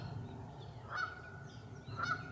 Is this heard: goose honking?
yes